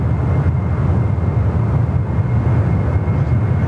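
A pair of Qantas special-livery aircraft passing at Sydney Airport, a loud, continuous low rumbling engine roar that holds steady throughout.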